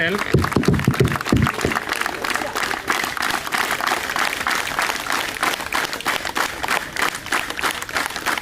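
Audience applause at a Yoga Day event attended by minister Ponnam Prabhakar, a steady, dense wash of clapping that holds through the whole stretch, with some voices mixed in near the start.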